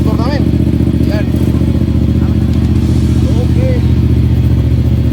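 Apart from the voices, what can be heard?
motorcycle engine running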